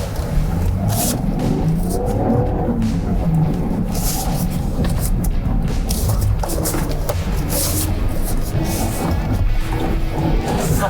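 A Land Rover Defender 130 engine revs hard and labours in desert sand as the vehicle struggles while stuck, with continuous loud engine roar and churning noise throughout.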